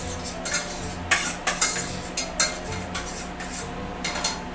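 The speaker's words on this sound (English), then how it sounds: "Go ahead and get that in there, mix it up real good." Metal utensil scraping and clinking in a pan while butter and garlic cloves are stirred, a series of short scrapes and taps heard close and alone.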